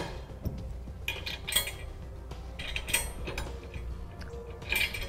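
Ratchet wrench tightening gooseneck hitch hardware under a 2015 Ford F-250 Super Duty, giving several short bursts of clicking and metallic creaking over a low steady background hum.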